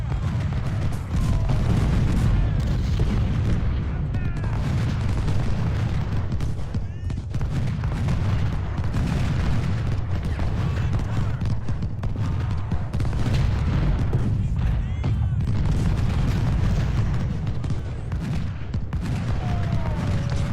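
Artillery and gunfire from the Civil War strategy game Ultimate General: Civil War, a dense continuous rumble of cannon booms and musket volleys, with a voice talking over the battle.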